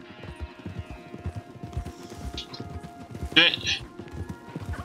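Horse hooves clip-clopping steadily at a trot on a path in the Red Dead Redemption 2 video game, a dense close rhythm of hoofbeats with a short bright clatter partway through.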